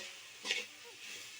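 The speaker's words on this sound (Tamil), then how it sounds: "வெங்காயம் தக்காளி நல்லா வதங்கட்டும்." Onions and tomatoes sautéing in a pan for a salna, a soft steady sizzle with one brief louder stir, no talk.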